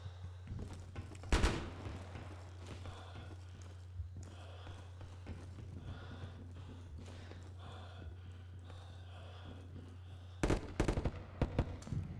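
Gunfire in the Roblox shooter Operation Scorpion, with two loud bursts of rapid shots, one early and one near the end, and quieter scattered game sounds and footsteps between them over a steady low hum.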